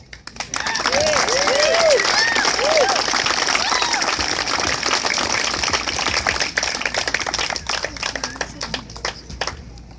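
Crowd applause and clapping at a skatepark grand opening, a loud sustained burst filling the whole stretch, with voices mixed in and gradually thinning toward the end.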